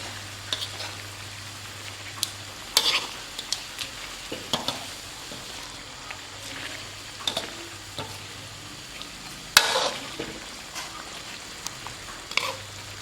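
Spicy catfish stir-fried with fresh chili and holy basil leaves crackles softly in a pan, with intermittent clacks and scrapes of a spatula and a sharper clatter near the end, no talking.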